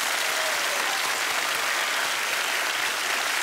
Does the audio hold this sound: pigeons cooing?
no